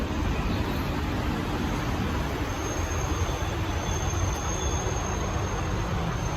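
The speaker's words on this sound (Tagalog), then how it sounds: "Sakay tayo ng MRT ngayon." A continuous loud rumble and hiss of an MRT metro train at Buendia Station, steady throughout with no talking, like riding inside a moving rail car.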